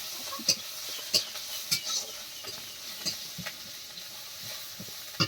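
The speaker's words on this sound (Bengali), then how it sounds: "পাঁচফোড়ন দিয়ে দিচ্ছি" Panch phoron spices crackle and sizzle in hot oil in a home kitchen, with soft frying hiss and sharp intermittent pops and clinks of a spoon stirring against the pan.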